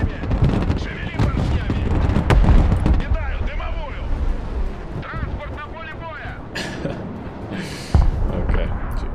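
Strafing run gunfire in the video game Broken Arrow, heavy rapid bursts and booming impacts rolling under excited players' talk, with a sharp loud hit near the end.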